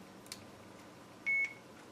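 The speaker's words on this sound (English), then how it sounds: "And it beeps and video is off" A single short electronic beep sounds clearly after a quiet stretch, close by, with faint background noise.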